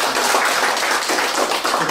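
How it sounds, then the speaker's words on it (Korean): Audience applause at a Korean amateur radio league book publication ceremony, dense continuous clapping from a crowd, loud and close, with no talk. "큰 박수로"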